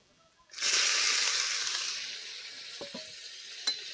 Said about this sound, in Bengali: ফোড়ন ভাজা হয়ে গেছে এবার পেঁয়াজ দিয়ে দেবো